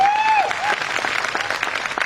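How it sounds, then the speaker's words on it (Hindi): Audience applause at a business success-story event, dense and loud across the whole stretch, with a short whistling tone near the start. "एक बार जोरदार तालियां आप लोगों को।"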